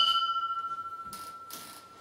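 A metal bell tuned to an E, the same metal and size as its companion bells, is struck once and rings with a clear, sustained tone that slowly decays, with a couple of soft knocks alongside.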